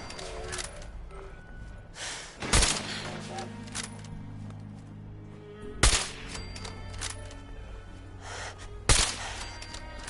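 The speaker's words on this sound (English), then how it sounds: "We'll use a sniper here." Sniper rifle fire in Fallout 4, heard as three sharp, widely spaced shots over a low, steady game ambience.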